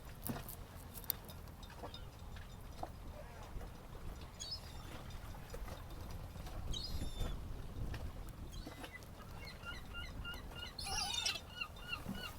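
Seagulls call with scattered high cries over a quiet harbour at Valentia Island, County Kerry, near a moored boat while fish are filleted; the calls are faint, intermittent and somewhat distant over low background rumble.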